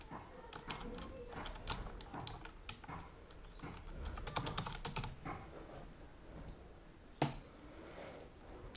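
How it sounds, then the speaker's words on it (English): Faint typing on a computer keyboard, with irregular bursts of soft key clicks and short pauses between them, one sharper click near the end, set against quiet room noise. "Now I'm typing my heading text here."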